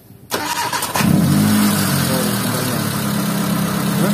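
A motorcycle fitted with a twin light ignition module cranks briefly, catches and settles into a steady, loud, close idle that holds for several seconds with no voices.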